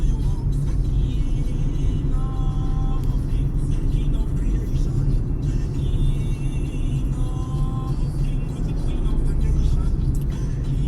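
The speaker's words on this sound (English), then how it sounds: "And now this is typical traffic" Steady rumble of bumper-to-bumper morning road traffic in St. Maarten heard from inside a moving car, engines and tires droning continuously with faint passing whirs, amid ongoing hurricane cleanup with debris-hauling trucks.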